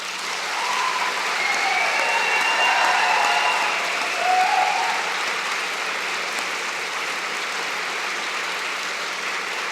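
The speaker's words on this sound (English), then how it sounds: "Graduates, a round of applause." Graduates at a convocation applaud for a long continuous stretch, a dense crowd-wide clapping that swells slightly and then holds steady, with no speech on top.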